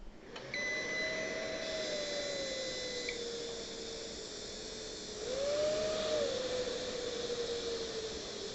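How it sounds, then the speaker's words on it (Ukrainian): Cooling fans inside a PowMR 3kW hybrid inverter run with a steady airy whir and hiss, their pitch sagging and rising as the fans are slowed by hand, with a thin electronic whine on top. "Спробую зменшити оберти за рахунок підтормажування вентиляторів."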